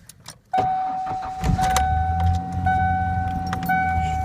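An old truck's engine cranks and fires up after a short burst of rattling, then settles into a loud, steady close idle with a faint whine, no talking.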